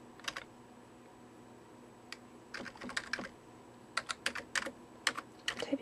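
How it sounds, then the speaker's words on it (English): Scattered keystrokes tap on a computer keyboard, irregular and sparse at first, then quicker clusters of clicks; close and quiet, with no voices. "Typing one-handed sucks."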